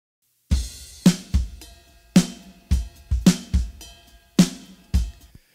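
A mixed drum kit with EQ and compression plays a steady groove, punchy kick and snare hits with cymbal wash from the overheads, roughly a dozen close, tight strikes with short decays and no voices.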